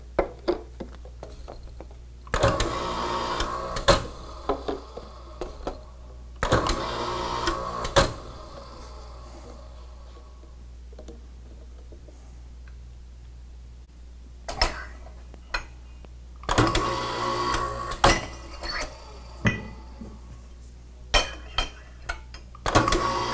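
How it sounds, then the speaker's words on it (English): A TAL 3100R label applicator labels fragile containers in a run of mechanical bursts, with clattering, whirring cycles repeating every few seconds between sharp ticks and clicks, close and fairly loud, with no voices. "this unit will apply the labels without damaging the container"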